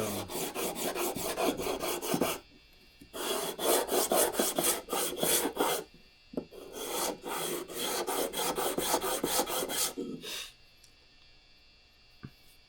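Rust is scrubbed off a transitional hand plane in long rhythmic bursts of close, rasping strokes, separated by short pauses, with a couple of light knocks near the end.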